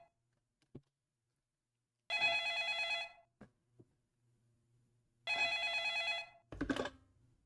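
A telephone rings twice in a Five Nights at Freddy's clone game made in Scratch, each long electronic bell burst about a second, separated by near silence with a few faint clicks.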